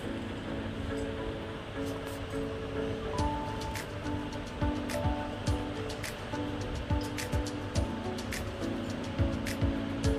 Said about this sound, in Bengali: এখন এইভাবেই কিছুক্ষণ নাড়াচাড়া করে রান্না করে নেব